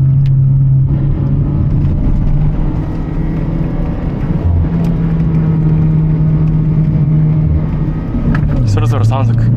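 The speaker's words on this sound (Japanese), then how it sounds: "2速でエンジンブレーキ効かしながら流してるけど" A naturally aspirated car engine-brakes in second gear down a winding mountain pass at dusk. It gives a steady, loud droning hum throughout that dips and shifts near the end, with road rumble underneath.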